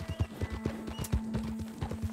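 Horse hooves clip-clop steadily in the Red Dead Redemption 2 video game, a quick rhythmic stream of hoof falls close up under a low steady tone, with no clear whinny.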